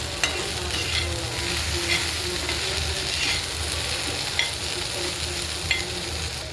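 Okra fries in a pan with turmeric, salt, green chili and garlic, giving a constant bright sizzle broken by regular scrapes and clicks as a spatula stirs it.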